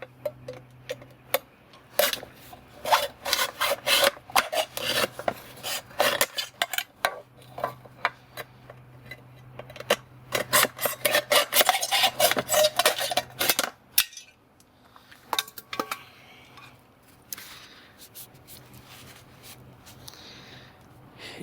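A Lionsteel SR-1 knife blade cutting a circle in a metal can makes dense, sharp metallic scraping and clicking that comes in rapid irregular bursts, then turns quieter and sparser near the end.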